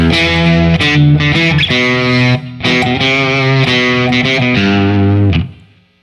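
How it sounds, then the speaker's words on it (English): A loud distorted electric guitar, a Telecaster played through a Marshall amp, plays sustained chords and notes, thick and buzzing, ringing steadily before fading out at the end. "Now I need a little distortion for this one."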